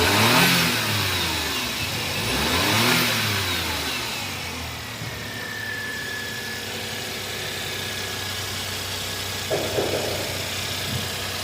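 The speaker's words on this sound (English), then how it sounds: "I'll give you small revs." A 1999 Suzuki Jimny engine idles steadily, then revs up and back down in two short rises, near and fairly loud.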